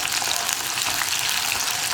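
Onions for vegetable mappas sauté in a pan with a loud, dense, unbroken frying hiss, close by and uniform throughout, with no distinct stir strokes and no talking.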